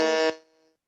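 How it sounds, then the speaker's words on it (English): A presentation timer buzzer blares a loud harsh electronic tone for about a third of a second, then its ringing tail fades quickly into silence. "I think this is Anirban's timer"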